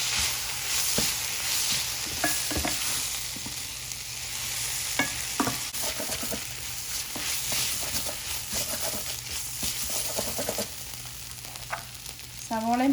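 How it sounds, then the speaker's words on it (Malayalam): Onion and green chillies sautéing in a pan for an egg gravy, a continuous close sizzle with occasional stirring clatter and a few utensil scrapes, no one speaking. "സവോളയും പച്ചമുളകും ഒക്കെ വഴഞ്ഞിട്ടുണ്ട്"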